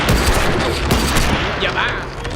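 Gunfire rattles in The Walking Dead: The Final Season video game, a dense, loud barrage of shots over game noise, with a voice talking underneath.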